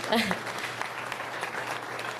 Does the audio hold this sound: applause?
yes